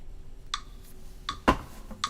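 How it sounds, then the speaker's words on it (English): Sharp, evenly spaced metronome clicks tick steadily at 80 beats per minute, about one every three-quarters of a second, over a quiet background hum, one accented louder than the rest. "Let me turn on the metronome."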